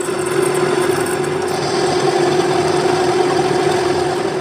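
A metal lathe turns a piece of steel, facing it and then cutting along its outside with coolant emulsion running. It gives a steady, loud machine hum with a constant tone that continues without a break, and no one speaks.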